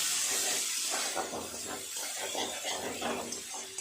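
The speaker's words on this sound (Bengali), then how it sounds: "গ্যাস জোরে দিয়েই আমি পেঁয়াজটাকে এইভাবে ভেজে নেব" Chopped onions frying over high gas heat for a fish kalia, a steady broad hiss and sizzle with faint scraping of stirring, continuous and fairly loud throughout.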